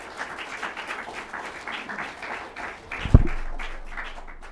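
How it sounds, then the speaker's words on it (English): A ceremony audience at a 2019 Commonwealth Day celebration gives a steady round of applause, a soft, even patter of many hands with a single sharp knock partway through. "a round of applause to India and New Zealand as well"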